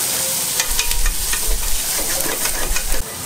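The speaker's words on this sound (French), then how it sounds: "On fait revenir les oignons jusqu'à ce qu'ils soient translucides." Half an onion, finely chopped, sizzles in melted butter in a saucepan, a steady loud frying hiss broken by soft scrapes and knocks of stirring, close up with no voices.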